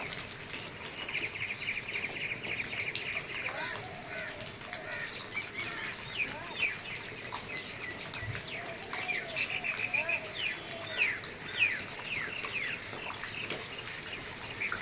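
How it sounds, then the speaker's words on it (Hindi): Birds chirp and tweet during a morning rain at an Indian wedding home. The many small calls repeat over a soft, steady background wash, with some faint voices under them. "और बहुत ही अच्छा सा चिड़िया का चहचहाना"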